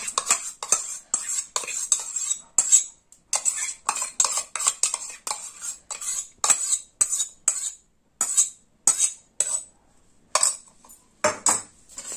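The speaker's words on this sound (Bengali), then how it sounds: "এবার আমি ভালো করে মেখে নেব।" A spoon stirs a yogurt, salt and sugar marinade into meat in a bowl, making about twenty rhythmic scraping clinks, close and clear, with short pauses between strokes.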